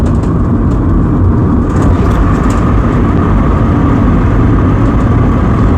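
A car in a racing video game swings through a run of sudden bends, its engine giving a steady, loud, unbroken roar with no break in intensity and no voices.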